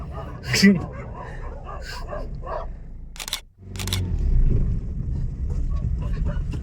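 A dog near a car barks in several sharp, loud bursts over the first few seconds, followed by a low, steady rumble of the car as it turns.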